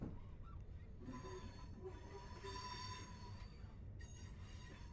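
Passenger train running in Train Sim World, a British service bound for Crewe via North Wales: a steady low rumble of the moving train fills the whole stretch, with a faint tonal whine and a brief horn-like honk midway.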